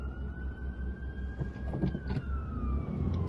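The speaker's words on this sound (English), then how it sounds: "Oh, it's a fireman engine." A fire engine siren wails with a slowly falling tone in a town seafront street, moderately distant and passing, over steady traffic rumble with no talk.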